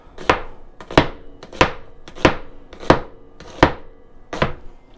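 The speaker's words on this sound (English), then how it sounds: "Then we want to slice up an onion." A knife slices through an onion on a cutting board in seven even, sharp chops spaced about two-thirds of a second apart, close and clear.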